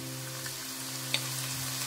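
Lemongrass stir-frying with chili paste and shrimp satay sauce in a pan for a family hotpot base, a steady low sizzle close by with a faint sharp tick midway, no voices.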